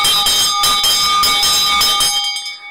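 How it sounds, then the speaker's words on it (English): Ringing of a bell for morning roll call: loud, rapid repeated metallic strikes with sustained ringing overtones, about eight hits in quick rhythm before the ring fades out at the end, with no talking. "Let's ring the bell."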